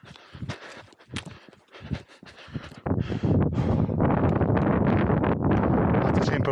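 Strong wind on the Corno–Cimone mountain ridge buffets the microphone in a loud, continuous roar after a few seconds of intermittent gusty rumbling.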